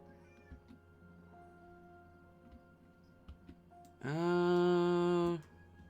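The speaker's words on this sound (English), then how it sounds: "I'm so glad I put a bell on this cat" After a stretch of faint ticking and background noise, a cat wearing a bell lets out one loud, drawn-out meow close by.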